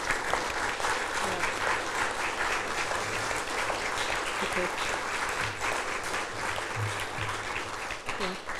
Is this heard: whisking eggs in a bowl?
no